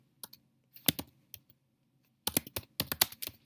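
Computer keyboard typing comes in a few scattered clicks, then a brief pause, then a quick burst of crisp close keystrokes in a quiet room.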